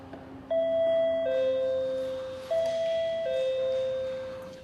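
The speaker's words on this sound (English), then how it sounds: "pushing the bell." A doorbell rings twice with clear two-tone ding-dong chimes, loud and close, each pair of notes fading out before the next press, with no one talking.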